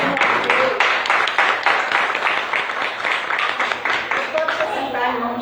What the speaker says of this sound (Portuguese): Amém. Vamos aplaudir.